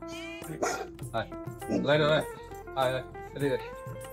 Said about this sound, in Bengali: সে হচ্ছে প্রপার গার্ড ডগ বলতে যেটা বোঝায়, এরকম এক্সট্রিম গার্ড ডগ আমি আমার লাইফে কম পাইছি।